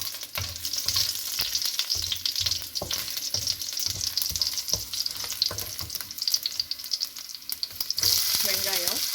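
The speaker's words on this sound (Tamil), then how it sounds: "பூண்டை லேசாக வதக்கிட்டு" Garlic sautéing in oil in a pan with cumin and mustard seeds while cooking manathakkali kaai kuzhambu, a steady loud sizzle and crackle with frequent stirring clatters throughout, no talk.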